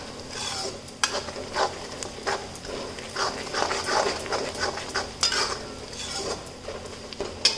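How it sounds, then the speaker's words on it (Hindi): Spices, including Kashmiri red chili, are dry-roasted in a pan for besan gatta curry, with a spoon scraping and stirring against the metal in repeated strokes over a soft sizzle, close and without talking. "और इसे 1 से 2 मिनट सिर्फ भूनेंगे।"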